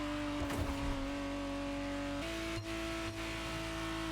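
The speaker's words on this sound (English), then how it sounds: "It's a good looking car, the Testarossa." A Ferrari Testarossa engine in a racing video game holds a steady, droning tone that shifts pitch as the gear changes, with a couple of brief dips in level.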